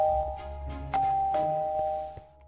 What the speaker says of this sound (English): But who's ringing my doorbell now?